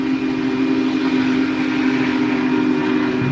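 Union Pacific steam locomotive 4014 hauling a business train of office cars, producing a loud, steady rumbling roar with a sustained whistle-like tone running through the whole stretch.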